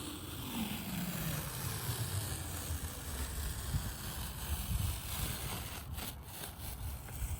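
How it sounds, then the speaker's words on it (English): A boat's generator exhaust runs with a steady, low, droning rumble throughout, close by, with some wind noise and a few faint knocks near the end. "That's the generator exhaust."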